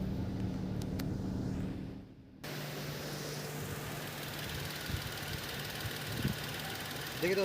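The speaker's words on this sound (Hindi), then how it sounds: "देखिए अब जो हमारा इंजन बिल्कुल शांत है" A Tata Nexon BS6 petrol engine idles with a smooth, even low hum after its misfire was fixed, broken by a brief dip early on before it settles back steadily.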